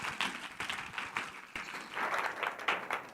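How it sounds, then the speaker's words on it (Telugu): A church congregation clapping at a Christian fellowship gathering, a dense burst of hand claps that swells and dips over a few seconds, fairly distant and modest in level. "మీరు నమ్మితే గట్టిగా చప్పట్లు కొట్టండి."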